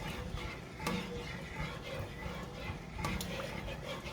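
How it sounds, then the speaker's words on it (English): A spoon stirs a broccoli cheddar soup mixture in a pot, giving a soft, continuous scraping and swirling with faint sizzle, close and quiet, plus a couple of light taps against the pot. "we're just going to stir this around until it gets kind of smooth"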